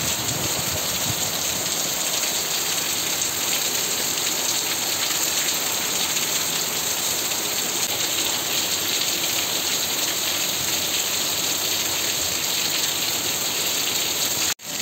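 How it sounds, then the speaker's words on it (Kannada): Heavy rain pours down in a dense, steady roar, loud and close with no letup and no voices, before cutting off sharply at the very end. "ಈಗಂತೂ ಇನ್ನೂ ಫುಲ್ ಜೋರಾಗಿ ಹೊಡಿತೈತೆ ಮಳೆ."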